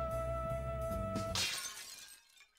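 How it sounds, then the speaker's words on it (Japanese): Glass is smashed in a Jinguji Saburo Ghost of the Dusk 3DS detective game, a single sharp bright shatter that cuts across a steady game music tone and then trails off into a brief tinkling decay, fairly quiet overall. "その方向からガラスが叩き割られる音が聞こえてきた。"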